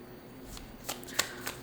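A Rainbow Brain Skull Oracle card deck is shuffled by hand in a quiet room, three soft, brief riffling bursts close by.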